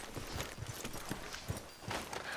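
Horses' hooves clip-clop softly and unevenly at a walking pace in the video game Red Dead Redemption 2, faint and somewhat distant, with no voices.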